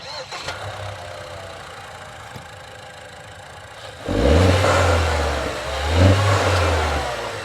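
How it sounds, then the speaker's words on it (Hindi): Tata Harrier petrol engine starting after a quiet stretch, catching with a burst and then idling close by, with two throttle blips rising and settling back. "एक बार स्टार्ट करके इसका वाइब्रेशन वगैरह भी चेक कर लेते हैं"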